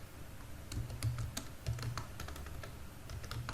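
Keys on a computer keyboard are tapped in quick, irregular bursts of light clicks with brief pauses, heard close and fairly quiet with a low background hum.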